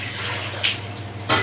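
A jug of water pours into a cooking pot of dal in a home kitchen, a steady close splashing stream with two brief louder gushes partway through.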